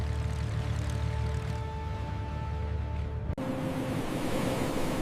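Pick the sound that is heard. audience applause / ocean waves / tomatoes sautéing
ocean waves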